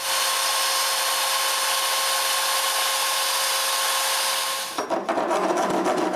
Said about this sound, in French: Je change la mèche et je refais la coupe avec une vitesse de défilement bien moins rapide.